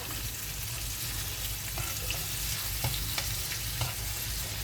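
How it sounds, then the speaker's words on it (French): Meat grilling in a hot pan gives a dense, continuous sizzle with occasional small pops and crackles, steady and close throughout, with no voices. "on laisse bien griller la viande"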